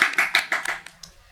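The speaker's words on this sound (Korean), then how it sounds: "수고해주신 두 분께 박수 한번 부탁드리고" A short burst of clapping from a few people, sharp claps in quick succession that thin out and stop within about a second.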